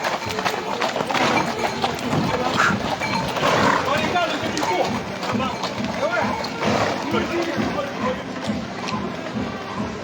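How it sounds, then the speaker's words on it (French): A group of horses runs past at a French equestrian event in Pernes-les-Fontaines, a rumble of hoofbeats and clip-clop under steady crowd noise and talk. "Il y a trop de chevaux là."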